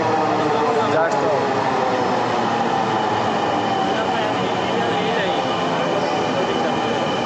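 A metro train arriving at a station rumbles loudly and steadily, a continuous broad roar of wheels and motor filling the whole stretch.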